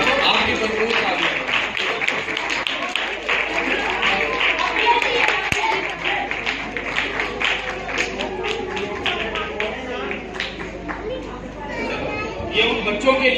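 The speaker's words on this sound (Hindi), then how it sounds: "आपकी भरपूर तालियां।" A crowd at a shelter organization's celebration claps steadily and fairly loudly, with chatter and voices mixed throughout the applause.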